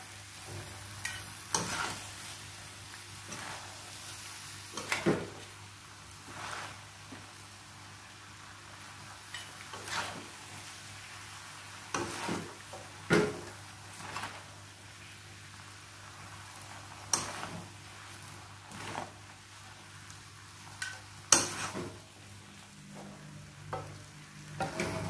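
Vegetarian noodles being stir-fried with chopsticks, a low continuous sizzle broken by repeated tapping and scraping strokes against the pan at an uneven pace, close and fairly quiet, without talk.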